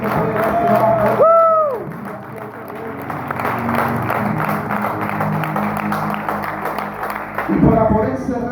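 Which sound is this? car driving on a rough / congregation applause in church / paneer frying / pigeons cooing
congregation applause in church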